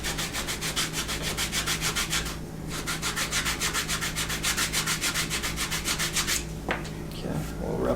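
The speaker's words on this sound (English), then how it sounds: "a little rough sand and then damp sand" Rough sandpaper scrubs the edge of a leather bi-fold wallet in quick, regular back-and-forth strokes, close and continuous, with a brief pause partway through and a few handling knocks at the end.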